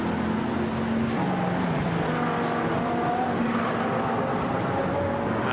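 An Aston Martin GT race car roars past at Monza during an endurance race, a loud, dense engine note with shifting pitch over continuous track noise.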